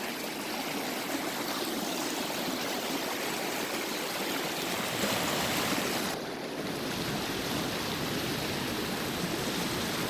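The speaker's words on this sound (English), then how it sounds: "There's another view of this creek from down on this rock we're standing on." Creek in Yosemite National Park, California, rushing over rocks as a loud, dense, continuous hiss heard up close, steady from start to end with no voices.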